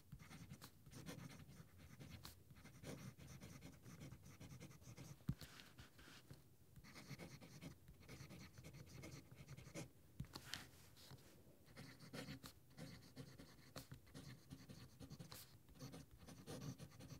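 Diamine Oxblood ink from a fountain pen scratching across paper while a short quote is written, with soft continuous nib strokes, small pauses between words and steady quiet room background.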